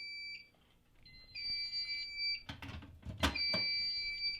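A fire alarm panel sounds a trouble signal after a smoke detector head is removed, repeated steady electronic beeps in short bursts, with clicks and handling clatter in between.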